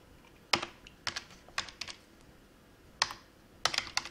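A computer keyboard being typed on, with a handful of separate sharp key clicks and short clusters spread unevenly over a few seconds, close and distinct in a quiet room.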